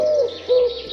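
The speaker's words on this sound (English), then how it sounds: "Their monotonous cooing will be familiar to most." A Eurasian collared dove gives soft, low cooing notes, two close hollow coos in quick succession, clear and fairly loud with no talking over them.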